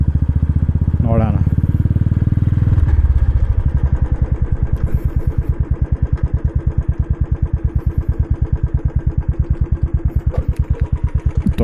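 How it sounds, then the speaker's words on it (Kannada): A 2021 Royal Enfield Classic 350 with the BS6 fuel-injected engine opens with a loud burst, then settles into a slow, even thumping idle from the exhaust, each beat distinct and close. "ಈ ಎಕ್ಸಾಸ್ಟ್ ನೋಟ್ ಮಾತ್ರ ಮಸ್ತಾಗೈತೆ. ಒಂದ್ಸಲ ಹಂಗೆ ಕೇಳಿಸ್ಕೊಳ್ರಿ, ಐಡಲ್ ಸೌಂಡ್ ಕೇಳಿಸ್ಕೊಳ್ರಿ"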